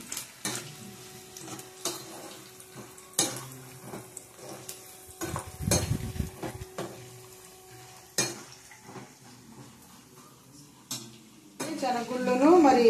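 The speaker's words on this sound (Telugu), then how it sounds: "తాలింపు గింజలు ఉడుకుతా ఉన్నాయి, ఎగుతా ఉన్నాయి." Chana dal, urad dal and mustard seeds temper in a hot pan, with light popping and crackling broken up by frequent sharp clinks of a metal utensil against the pan.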